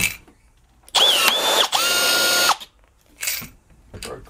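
A Milwaukee cordless rivet gun pulls a quarter-inch pop rivet in two loud, close motor whirs of about a second each, followed by shorter, fainter mechanism bursts.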